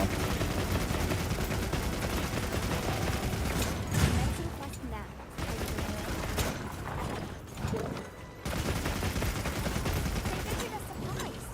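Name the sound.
rapid-fire weapon shots in Monster Hunter Wilds video game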